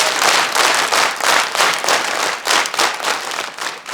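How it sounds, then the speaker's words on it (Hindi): A group of children claps together in a school session, loud and close, in rhythmic waves of quick hand claps that rise and fall steadily. "विशेष ताली प्रारंभ करेंगे।"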